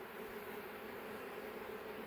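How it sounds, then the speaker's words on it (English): Honeybees swarm-buzz at a nuc box hive holding foragers, guards and workers, with queen cells forming on a frame: a dense, continuous, close drone that holds steady throughout. "We have forager bees, and we have guard bees, and we have worker bees of all sorts,"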